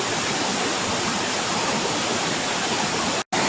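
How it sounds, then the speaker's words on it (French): A waterfall roaring in a canyon in the Dominican Republic, a dense, loud, continuous rush of falling water heard up close, broken only by a split-second dropout near the end. "Voilà, c'est le départ de la cascade."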